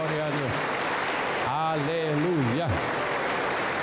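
A congregation applauds at a Sunday Lord's Supper service in a Peruvian church. Steady clapping fills the background while a voice speaks loudly over it.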